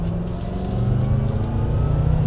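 A BMW M6 with a V10 engine pulls hard down a straight, a loud, steady engine roar rising in pitch as it accelerates, heard up close with no talking.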